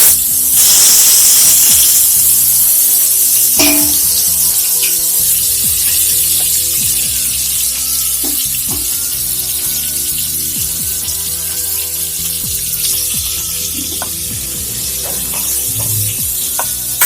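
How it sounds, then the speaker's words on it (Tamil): Fish frying in hot oil for a Tamil fish kuzhambu gives a loud, steady sizzle and crackle that runs unbroken throughout, with occasional sharper pops and no voices. "இந்த அளவுக்கு பொரிஞ்சா போது எடுத்துடலாம்."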